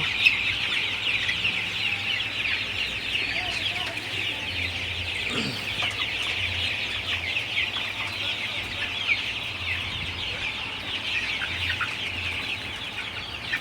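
Sonali super hybrid chickens in a poultry shed during hot, humid weather, a dense continuous chorus of clucks and chirps from many birds, close and steady throughout, with a low fan hum underneath and no speech.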